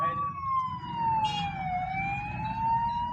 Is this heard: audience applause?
no